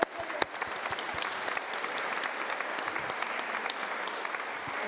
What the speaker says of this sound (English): Quick round of applause for Donna, because I think we need to.